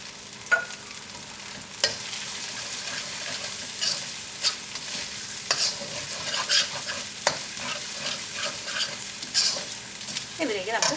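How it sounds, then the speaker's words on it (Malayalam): Ginger and garlic sizzle in a pan with a pinch of garam masala as they fry for tomato rice. A spoon scrapes and stirs in repeated sharp strokes over the steady frying crackle. "ഇതിൻ്റെ ഇഞ്ചിയും വെളുത്തുള്ളിയും മുരിഞ്ഞിട്ട് നല്ലൊരു സ്മെല്ല് വരുന്നുണ്ട്. ഇതിലേക്ക് നമുക്ക് ഗരം മസാല ചേർക്കാം."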